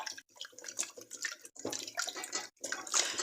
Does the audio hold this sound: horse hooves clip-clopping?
no